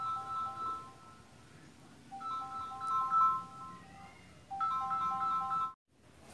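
Phone ringtone playing while a call is placed, a repeating melodic electronic tune in short bursts with pauses between, moderately loud and without talk.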